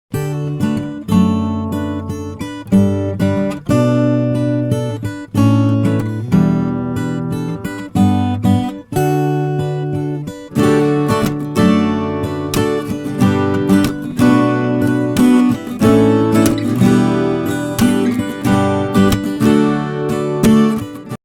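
Several acoustic guitars strum together in a steady rhythmic pattern, full and bright, playing continuously with no voices.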